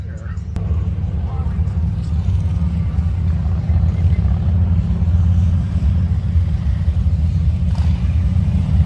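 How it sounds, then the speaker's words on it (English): Motorcycles roll past on Iron Mountain Road during the 2023 Sturgis rally, a continuous deep engine rumble that stays steady and fairly loud throughout. "just sitting along Iron Mountain Road right now watching the bikes go by"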